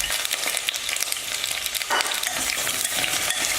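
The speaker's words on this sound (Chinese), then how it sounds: "油热后放入洋葱。" Onions hit hot oil in a wok for a home-style chicken casserole, sizzling loudly and steadily while they are stirred, with no voices over the constant hiss.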